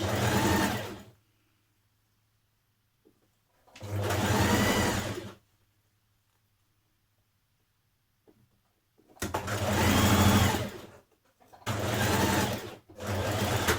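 A sewing machine runs in four bursts as it stitches and back tacks a seam while taking in a dress, each run loud and steady with quiet gaps between.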